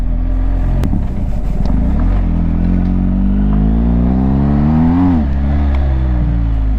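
BMW GSA adventure motorcycle engine on a muddy rural road in Wales, close and loud, with a thumping idle that rises into a climbing rev, then drops off with clattering.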